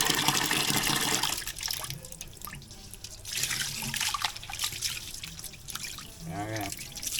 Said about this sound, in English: Wash your rice, you know. Just the source of water alone